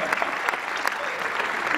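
An audience at a live interview breaks into steady, dense applause, many hands clapping together evenly from start to finish.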